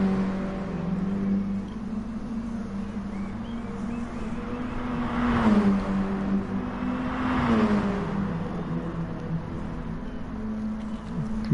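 Race cars in a Gran Turismo Mini Cup race on the Dragon Trail Seaside circuit, a steady engine drone rising and falling in pitch with two louder surges as the cars pass, with no talk.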